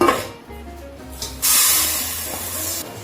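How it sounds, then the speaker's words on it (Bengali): Mangalbhog rice being washed with water, a rushing, splashing hiss that swells loud midway and runs steadily to the end. "এখন চালটাকে ধুয়ে দিই"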